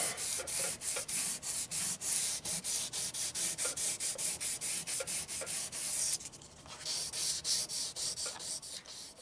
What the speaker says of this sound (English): We could just hit it with a Scotch-Brite pad, but with the overspray that we're trying to smooth out, I gotta use regular sandpaper.